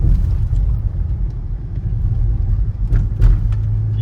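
Loud, steady low rumble inside the cabin of a BMW M5 G90 on a rough road, a constant deep drone with a few brief knocks and bumps through it.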